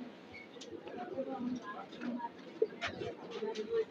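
Pigeons in a cage at a Saruliya pigeon market coo and rustle amid a busy murmur of crowd noise and voices, with a few sharp bird calls standing out near the end.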